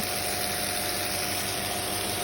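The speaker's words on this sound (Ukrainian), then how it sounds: "Мотор від пральної машинки, тягок, вал від барабана пральної машинки, супер саморобний." Homemade machine tool driven by a washing machine motor with a belt and a drum shaft from a washing machine, giving a steady, continuous motor hum with a constant high whine, running alone at moderate level.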